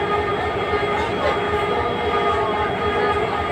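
Steady rumble and rattle inside a moving passenger train, a dense continuous roar of wheels and carriage noise filling the space at close range, with no clear talk over it.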